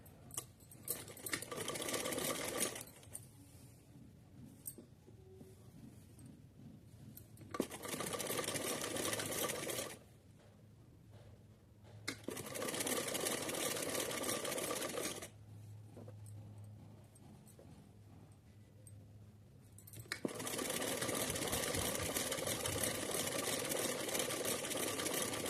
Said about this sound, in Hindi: यहाँ एकदम रख के सिलते हैं।